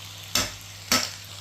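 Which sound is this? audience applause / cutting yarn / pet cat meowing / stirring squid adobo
stirring squid adobo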